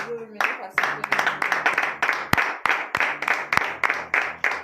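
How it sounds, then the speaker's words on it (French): A church congregation at a morning prayer service in Benin claps loudly in a rhythmic beat, with a few sharp, louder claps standing out and voices calling out between them. "je vous demande d'applaudir très très fort ce grand Dieu"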